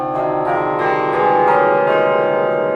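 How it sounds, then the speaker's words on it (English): A minor scale struck on tuned bells, notes ringing out one after another with long overlapping resonance and rich overtones, loud and close with no voices. "And if I played just the minor scale on bells,"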